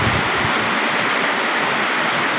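Rushing water current flows steadily near a rice drying area, a dense, even hiss with no breaks and no voices.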